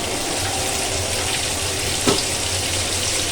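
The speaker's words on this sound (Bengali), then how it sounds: "মাছটা ভাজা হয়ে গেছে, আর বেশি ভাজার দরকার নেই" Steady oily crackle of hilsa fish frying in a pan of hot oil, a continuous close hiss with one brief clink partway through, no voices.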